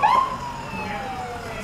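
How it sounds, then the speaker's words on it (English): Police and emergency vehicle sirens wail during a town pepper festival parade, a loud rising and falling tone that sweeps and dominates, with faint voices underneath. "it's kind of futile for us to try to speak while the sirens are sounding"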